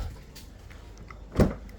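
A Toyota Hilux Revo pickup door opening with a single short latch clunk near the end of a quiet stretch of faint background noise.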